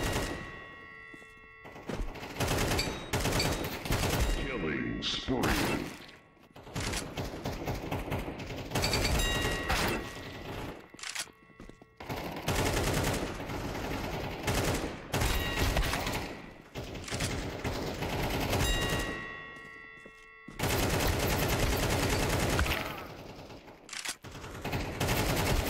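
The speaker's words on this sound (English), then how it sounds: "My last 10 bullets of a 30-bullet spray are not accurate." Rapid automatic gunfire sprays in a competitive shooter video game, long bursts of loud close shots with mechanical clacks and reloads, broken by short pauses over about twenty-five seconds.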